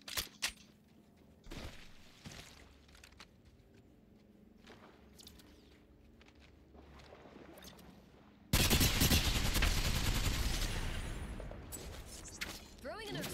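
Gunfire in Apex Legends, scattered shots and footsteps early on, then a loud sustained burst of automatic fire that fills the second half, with a player talking over the action.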